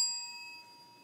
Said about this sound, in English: they will indicate so by ringing a bell